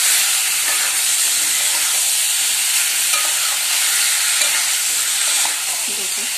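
Meat and potatoes sauté with spices in a hot pan, giving a loud continuous sizzle and hiss with stirring scrapes throughout. No talking is heard.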